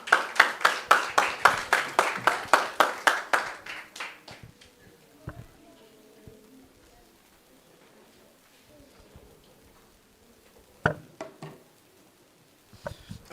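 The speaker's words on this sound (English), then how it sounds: "Please give him a warm round of applause." A run of audience clapping at a camp gathering, loud and rapid for about three seconds, then thinning into a few scattered claps and quiet room noise with occasional later claps.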